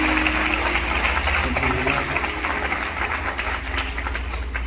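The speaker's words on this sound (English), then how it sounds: "Clap your hands." A congregation at a revival-style religious gathering claps hands together in a sustained, dense burst of applause, loud and continuous throughout, over a low steady hum with faint voices mixed in.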